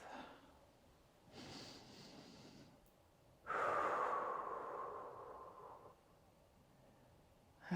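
Slow, steady breathing during a movement-flow workout: a soft nasal inhale followed after a pause by a longer, louder, airy exhale through the mouth, close and unaccompanied.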